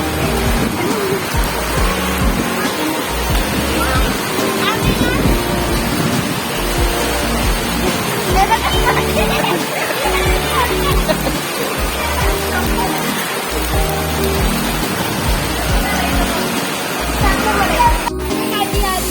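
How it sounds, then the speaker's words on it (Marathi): Heavy rain pouring down in a dense, loud, continuous rush of splashing water, with a voice talking over it. "हे बघा किती पाऊस लागतोय."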